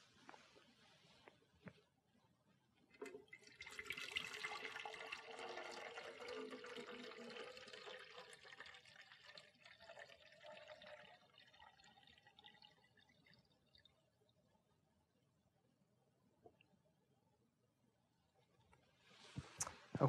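A second batch of water pours into a tank, a soft splashing rush that swells and then tapers into faint trickles and drips, quiet and close, with no voices.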